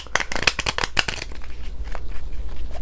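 Rapid riffling of a deck of cards, two quick bursts of crisp fluttering snaps, then a quieter tail of soft shuffling and rustle.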